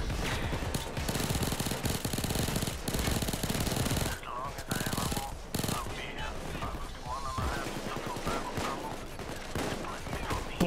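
Sustained automatic weapons fire in the shooter game Payday 2, dense rapid bursts of gunshots close and loud, pausing briefly midway, then returning as scattered shots over game noise.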